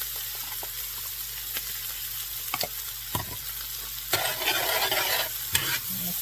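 A generous amount of garlic sizzles quietly in a pan for shrimp scampi, a soft steady crackle broken by occasional scrapes and stirs of a utensil.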